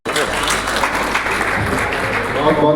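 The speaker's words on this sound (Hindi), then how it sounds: "इनके लिए एक बार जोर जोरदार तालियां बजाएंगे।" An audience at a Lions Club honours ceremony for disabled people and journalists breaks into loud, sustained applause, many hands clapping densely for nearly three seconds after a short silence.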